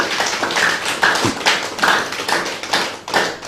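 Audience clapping at a spiritual talk on the Buddha's eightfold yoga path, a firm round of hands clapping together in uneven bursts, fairly close and filling the whole moment without voices.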